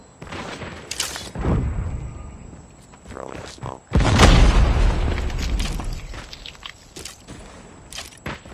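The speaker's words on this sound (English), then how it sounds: "Grenade!" A grenade going off in a Call of Duty Mobile Search and Destroy match: a loud, close blast with a heavy low rumble that decays over several seconds, preceded by scattered game sounds and short clicks.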